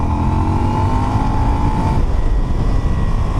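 An Aprilia motorcycle accelerating, a loud, steady engine drone close by whose pitch rises and then levels off over a few seconds.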